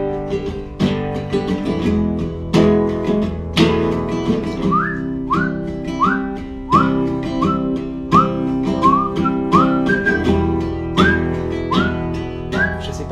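A person whistles a melody of short rising notes over background music, repeated phrases with a steady rhythm, fairly loud and close.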